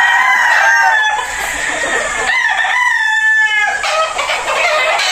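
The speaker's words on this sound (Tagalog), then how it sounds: "So dito kami sa manukan ni Boss Paulo Malbar." Gamefowl stags and roosters at a chicken farm, with several loud, close crowing calls that overlap one another and run nearly continuously, mixed with clucking and no talking.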